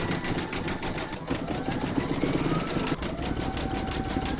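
A sewing machine runs steadily through zigzag and satin stitching around the ears and face of a dress-up doll, a close, continuous mechanical whir with rapid needle rhythm and no talk.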